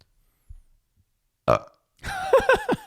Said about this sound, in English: I've been holding that burp and I just decided to let it out.